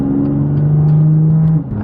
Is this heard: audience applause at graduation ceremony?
no